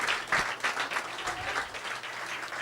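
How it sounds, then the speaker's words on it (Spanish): A church congregation at a worship service breaking into applause, a fairly faint but sustained wash of many people clapping from across the room. "Pues denle un fuerte aplauso al Señor."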